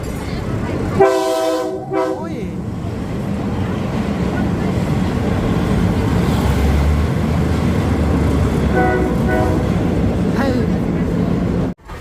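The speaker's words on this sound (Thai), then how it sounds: "รถไฟมา" A train rolls past at Taling Chan floating market, a loud continuous rumble with sounding horn blasts near the start and again later, by the water and cut off abruptly at the end.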